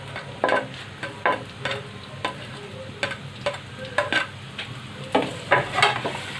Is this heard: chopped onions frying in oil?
yes